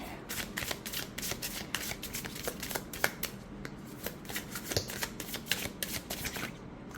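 Oracle cards being shuffled in quick repeated riffles, crisp flicking bursts close up, with no talking.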